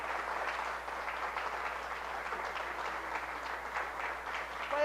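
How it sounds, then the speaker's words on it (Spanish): A church congregation at a Sunday service applauds in a soft, steady wash of many hands clapping, heard from some distance without pauses. "Podemos darle un aplauso al Señor"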